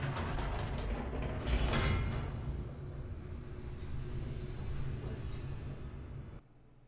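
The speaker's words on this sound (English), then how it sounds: "Elevator." An elevator in The Stanley Parable hums and rumbles with faint mechanical creaks as it moves, louder at first, then settling into a steady drone before stopping abruptly.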